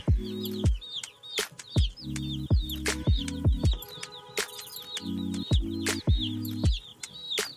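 Chickens cluck and chatter steadily inside an outdoor brooder coop for meat birds, with repeated loud clucks in bursts and thin chirps of chicks layered above, no talk.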